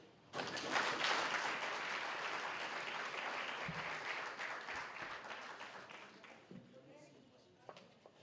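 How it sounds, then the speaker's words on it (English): Audience applause at an education summit in Omaheke: a sudden burst of dense clapping swells, holds for several seconds, then gradually tapers off, with a few voices near the end. "can we give another round of applause?"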